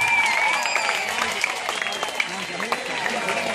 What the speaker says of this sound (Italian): un applauso a ciascuno di voi